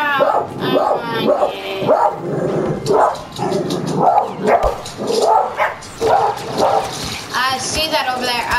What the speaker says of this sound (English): Sorry about the dogs, guys. I know. They can be annoying.